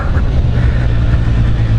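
A Yamaha Niken three-wheeled motorcycle engine rumbles steadily at close range as it rides off, a low continuous drone with a slight rough pulse, and no voices.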